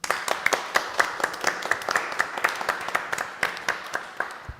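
A small audience claps at the close of a housing talk, scattered distinct handclaps in a loose irregular rhythm, fairly close and moderate in volume, with no talk over it.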